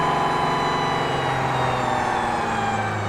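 An Aston Martin Valkyrie fitted with a Novitec exhaust revs under 3,000 rpm, giving a loud, steady, close engine roar with a droning tone that holds for a few seconds.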